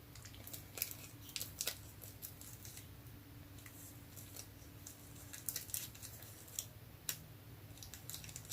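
Scissors snip around a printed Easter motif on a paper napkin, a string of quiet, close, irregular clicks and crisp cuts with short pauses between bursts and no talking.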